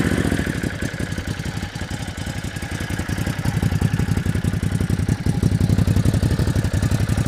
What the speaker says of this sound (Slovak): Musíme si ten motor naštartovať, pretože to je tá vec, ktorá vás robí šťastným